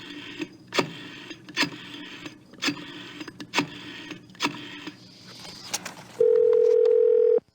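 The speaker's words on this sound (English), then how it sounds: "So let's make a phone call here." A steady telephone dial tone from the Gabriel Knight 2 video game comes in near the end, loud and continuous, after a series of regular knocking or clicking sounds like handset handling or keypresses.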